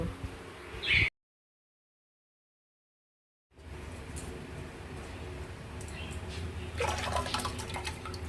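Running water splashes steadily into a container as dry-roasted split mung lentils are rinsed, after a brief gap of silence; the flow grows slightly louder near the end.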